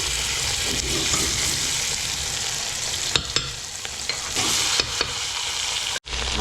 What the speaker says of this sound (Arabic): هاهي نسيو نقليو اللحم